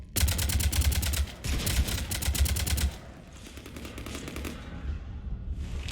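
Rapid automatic weapon fire from a Mass Effect 3 firefight, with loud, evenly spaced bursts that break off briefly, resume, then fade into quieter scattered shots and rumbling.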